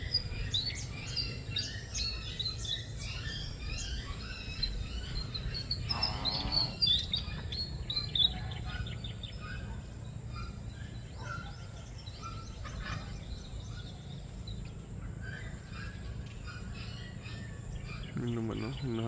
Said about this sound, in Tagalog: gansa natin yung isa ay nahabol ng pato.